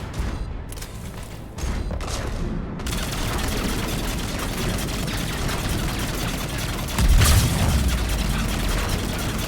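Continuous combat gunfire in the sci-fi shooter Mass Effect 3, a steady loud stream of shots with a heavier boom near the end and no voices.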